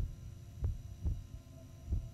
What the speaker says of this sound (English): I'm supposed to be following a heartbeat